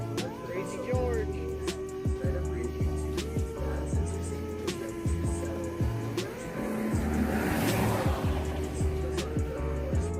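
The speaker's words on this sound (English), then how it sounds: "The sound of an approaching engine turns out to be nothing more than oncoming traffic." A car engine approaches on a bridge road at night, a low steady drone that swells as oncoming traffic nears and passes, heard under ongoing talk and repeated faint clicks.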